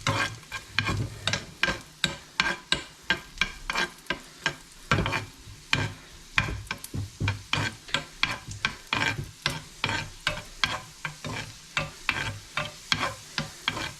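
Raisins frying in a pan with rhythmic stirring strokes that scrape and clatter at a steady pace over a constant low sizzle, close and fairly loud, with no talking.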